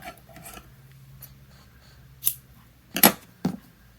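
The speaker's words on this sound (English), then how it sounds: "So we'll cut the yarn," Scissors cutting crochet yarn at the end of a fall leaf, heard as a few quick, close snips and rustles in a quiet room after some faint handling sounds.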